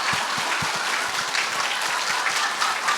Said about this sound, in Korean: 지금부터 제가 시작하면 15초간 가장 큰 소리로 박수 치면서 한번 웃겠습니다.